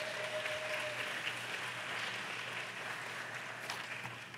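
Steady applause from an audience at a senior women's pageant in Washington, DC, welcoming the judges' chairperson; a continuous, moderately distant wash of clapping with no talk over it.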